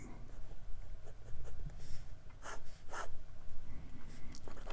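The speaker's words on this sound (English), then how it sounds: "It's decently wet for a fine nib, and this nib is really very smooth." Majohn V1 fountain pen with a number 5 steel fine nib writing on paper, a close, soft scratchy glide in short strokes and pauses, with no talking.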